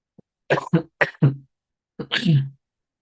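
A burst of several harsh coughs in quick succession from a presenter at a workshop, close and loud, followed by one more longer cough after a short pause, with silence between.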